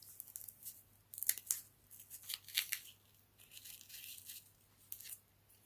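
Scissors snip through a thin insert from a small gift box in a quiet series of short cuts and crisp rustles, each cut a close, faint crunch, with brief pauses between them.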